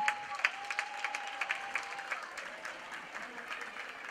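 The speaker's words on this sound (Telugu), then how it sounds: "చప్పట్లతో పాటు నవ్వులు కూడా వినిపించాలి వారు రాగానే" Audience at a Telugu association Ugadi celebration in New Jersey clapping steadily to welcome a performer onto the stage, a dense, moderately distant patter of many hands with a faint tone underneath.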